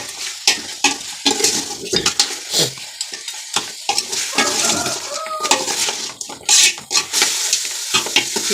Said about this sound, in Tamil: அந்த எண்ணெயோட இதுலேயே நல்லா லைட்டாக வதங்கணுங்க.